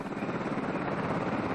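Apache attack helicopter, a steady rotor drone with a fast rhythmic chop, continuous and moderately loud without voices.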